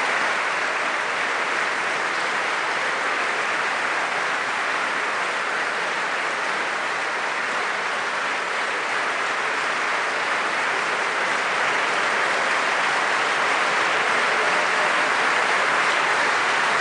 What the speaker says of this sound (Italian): C'è un lunghissimo applauso nei confronti del nuovo Presidente della Repubblica